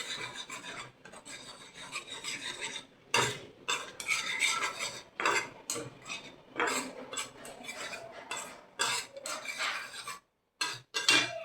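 Spice masala of ground cumin and other powdered spices frying in a pan for a rohu fish head muri ghonto, stirred with a spatula that scrapes the pan in rasping bursts broken by short pauses.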